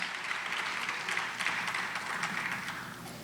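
Quiet audience applause at a senior women's pageant for the previous title holders, a soft, steady patter of many hands heard from a distance and fading slightly toward the end.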